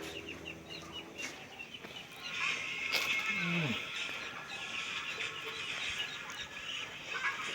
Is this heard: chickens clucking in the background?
yes